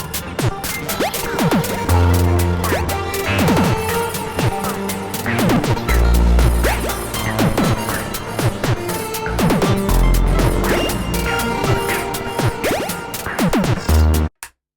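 Dense synth loop patched in VCV Rack, with repeating plucked and swept tones over deep bass pulses, loud and continuous before it cuts off abruptly at the end.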